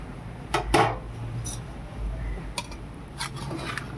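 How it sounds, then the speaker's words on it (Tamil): A biryani pot has its weight and lid lifted off, giving a few quiet metallic clanks and clinks of cookware against a low background, no talk. "வெயிட் எடுத்துகிட்டு மூடி எடுக்க போகிறோம்"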